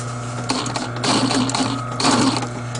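A sewing machine runs steadily at close range while stitching a north-south pattern during a repair, a continuous mechanical whir with a rhythmic needle chatter that swells and eases across the pass, with no one speaking.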